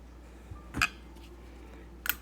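A metal bolt from an antique 1800s household sewing machine is dropped into a small dish, two brief clinks about a second apart, close and clear over a quiet room.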